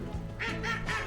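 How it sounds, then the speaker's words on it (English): Ducks quacking and squabbling beside a canal near Brecon, a quick run of three or four loud, close harsh quacks with no talking. "Bit of argy-bargy going on there with the ducks."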